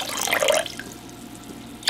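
Water splashes and trickles into a cholent pot being prepared for Shabbat, a bright pouring rush at first that thins into softer dribbling and drips, close by and without talk.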